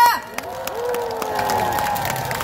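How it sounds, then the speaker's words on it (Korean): A crowd at an outdoor impeachment rally for President Yoon Suk-yeol claps and cheers after a speech, with scattered claps and shouted voices over a steady murmur and a raised voice near the start. "큰 박수 부탁드립니다."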